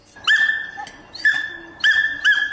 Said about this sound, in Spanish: No me deja comer tranquilo este perro de mierda.